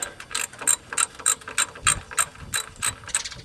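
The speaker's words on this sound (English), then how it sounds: "Then it's time to tighten up the oil pan bolts to the cover." Ratchet wrench tightening oil pan bolts on a 1987 Ford F150 with an inline-six engine: a close, crisp run of evenly spaced metallic clicks, about three per second, with nothing else audible.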